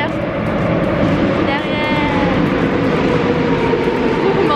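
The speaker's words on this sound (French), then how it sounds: "on est dans le métro. On va reprendre le métro pour aller." A Paris metro train runs with a loud, continuous rumble and rattle, heard from on board, with a brief squeal of wheels partway through.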